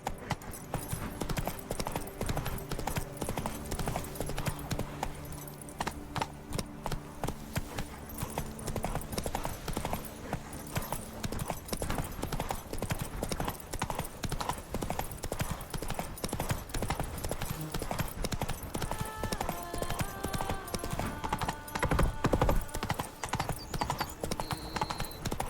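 Roach the horse gallops in The Witcher 3, a fast continuous clip-clop of hooves running for the whole stretch over steady game ambience, with faint musical tones near the end.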